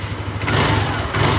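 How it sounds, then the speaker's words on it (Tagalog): Motorcycle engine running just after starting despite an Error 1 fault code, a close, loud, steady mid-pitched idle with a brief rise in revs partway through. "umandar yung motor ni boss kahit naka-error 1."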